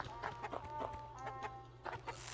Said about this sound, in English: Oh, there's chickens.